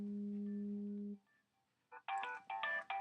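A phone rings with a steady low tone that stops, followed after a short pause by a bright, chirpy ringtone pattern in repeated bursts, fairly faint and with no talking.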